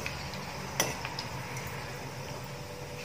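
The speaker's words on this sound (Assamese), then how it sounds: "এতিয়া ভালদৰে লৰাই দিম।" Cloves, cardamom pods and cinnamon stirred in a pan, soft scraping with a sharp metallic clink near the start and a few lighter taps, quiet and close.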